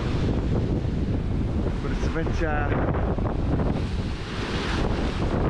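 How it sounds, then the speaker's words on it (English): Strong wind buffeting the microphone on the Northumberland coast at Bamburgh, with constant loud gusting roar and surf blending beneath it; a person speaks briefly partway through. "a bit windy and wet and wild"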